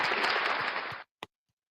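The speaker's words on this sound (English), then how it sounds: "We got to clap that up." Audience applause after a boxing fight, Shakan Pitters vs Brad Rea: about a second of dense clapping that cuts off abruptly, then a single isolated clap.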